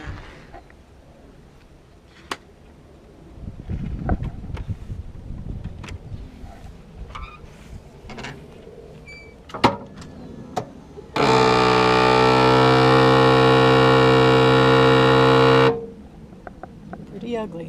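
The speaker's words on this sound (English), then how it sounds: "I'm going to show you right now the sound that they're making when I try and turn on the motor." A faulty Kwikee Step motor, likely with a worn plastic gear, lets out a loud, steady harsh buzzing drone lasting about four seconds after quieter handling noises and clicks.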